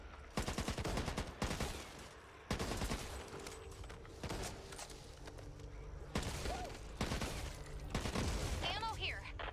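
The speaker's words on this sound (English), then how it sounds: "Sorry! I shot through the zombie and hit you." Bursts of automatic gunfire in the zombie shooter game Back 4 Blood, loud, dense volleys recurring through the stretch with brief gaps, mixed with game effects and players talking.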